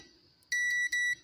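Multimeter continuity tester checking small capacitors on a JBL Link 10 speaker board gives two sharp, loud, high-pitched electronic beeps in quick succession, each lasting roughly a third of a second, with no talking.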